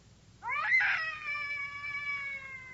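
A single cat lets out a long, drawn-out caterwauling meow, close and clear, sustained for about two seconds over a quiet background.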